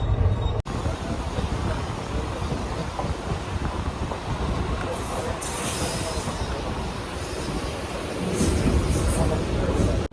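Inside an intercity express train between Tirupati and Tiruvannamalai, a steady loud rumble and rattling roar fills the cabin continuously, with a brief dropout near the start and a slight swell toward the end.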